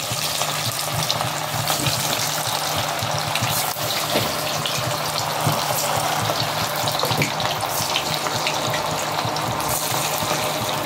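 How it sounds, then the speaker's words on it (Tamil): Varki vadai fry in hot oil, a dense, continuous sizzling and bubbling hiss that stays loud and even throughout, with no voices over it. "வடை நல்லா பொரிஞ்சிருச்சு."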